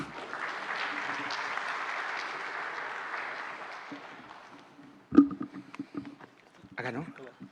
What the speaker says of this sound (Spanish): Recibimos con un fuerte aplauso a Javier Huancari Moya.